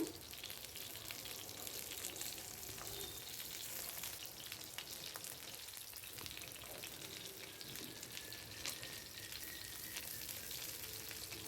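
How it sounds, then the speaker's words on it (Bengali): Chicken pieces for butter garlic chicken sizzle and crackle steadily in a hot pan, a continuous close fry with no voices, faint scraping of stirring now and then. "এবার আমার সবগুলো চিকেন দেখুন খুব সুন্দরভাবে ভাজা হয়ে গেছে"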